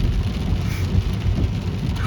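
Rain pours during a severe thunderstorm near the Grand River, heard from a vehicle as a dense, steady rumble and wash of water with low, heavy drumming throughout.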